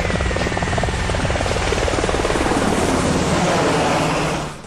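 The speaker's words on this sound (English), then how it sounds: "It is a utility helicopter, carrying out virtually every job on the battlefield." A Black Hawk utility helicopter flies close by, its loud, steady rotor chop and turbine roar running unbroken before cutting off sharply at the very end.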